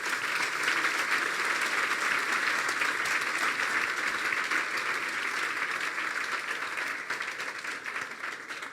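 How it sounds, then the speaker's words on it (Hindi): A church congregation claps in sustained, dense applause that holds steady for several seconds before gradually thinning out, with faint voices mixed underneath. "फिर बजा दें यीशु के लिए तालियां।"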